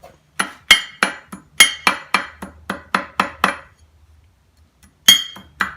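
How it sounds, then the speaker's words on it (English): Sharp metallic strikes of a wrench used as a hammer on a 1962 Johnson 10 hp outboard's lower unit ring out in a steady series, about a dozen hard taps close up, then a short pause before a few more blows. "Everyone's screaming at me not to use the wrench for a hammer."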